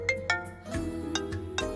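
Phone ringtone for an incoming call, a bright repeating electronic melody of short tonal notes in quick rhythm, clear and moderately loud.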